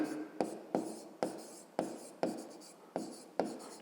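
Pen or marker strokes write out a math equation, with eight sharp taps of the tool on the surface repeating at a fairly even pace, each followed by a short scratchy drag. The sounds are close and moderately quiet, with no speech.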